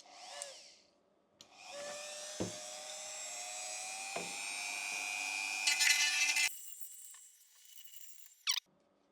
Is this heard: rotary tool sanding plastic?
yes